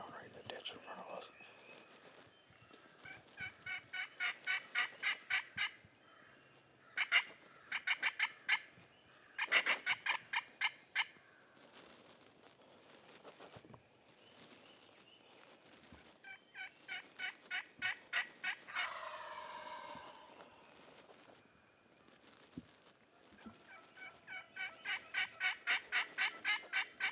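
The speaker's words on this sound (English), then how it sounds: "Yep, that was a gobbler that flew down right in the ditch in front of us." Wild turkey gobbler gobbling outdoors in Maryland during turkey season, with several rapid rattling gobble bursts repeating at intervals, fairly distant, while hushed whispering voices talk throughout.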